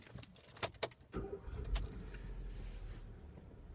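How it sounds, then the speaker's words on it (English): A Hyundai i20's engine starts: a few sharp clicks and clunks come first, then the engine catches into a low, steady idle rumble, heard fairly close and quiet. "The way you start the Hyundai i20 is you've got to have your foot on the clutch before you start it"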